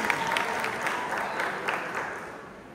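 Audience applause at a religious gathering, steady clapping from a crowd for about three seconds with some voices mixed in, moderately loud and fairly close.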